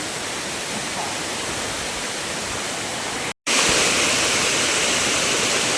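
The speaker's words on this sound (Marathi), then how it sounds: "हा निसर्गरम्य धबधबा कसला उंचावरून पाणी पडतोय बघा फोर्सने" A scenic waterfall at Bandhtivare village in Dapoli taluka, water plunging from a height with force, makes a steady, close, full roar that runs unbroken apart from one very short dropout, with no voices.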